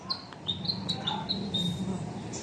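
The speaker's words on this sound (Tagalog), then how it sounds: "Ibon." Outdoors on a running route, a bird gives a series of short, high chirps repeated every half second or so, moderately close, over steady background noise and low rumble.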